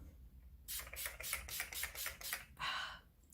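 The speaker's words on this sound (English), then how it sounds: "You just spray it on." Rapid bursts of hissing from a spray bottle of glycerin and essential-oil mist, about eight quick pumps in a row, then one longer spray after a short pause, close and fairly soft.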